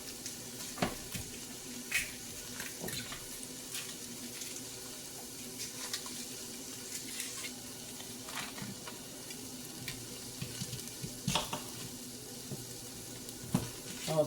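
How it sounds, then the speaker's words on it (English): Onion sauteing in a pan for potato soup, a soft steady sizzle with scattered clinks and stirring scrapes, fairly faint and close. "So I'm going to saute this onion."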